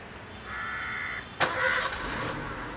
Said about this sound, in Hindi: तो एक बार गाड़ी को मैं स्टार्ट करता हूँ,